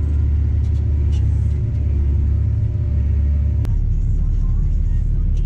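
Tractor pulling a seed drill along a field toward a hedge line, a loud steady engine rumble and drone running throughout, with a brief sharp knock partway through.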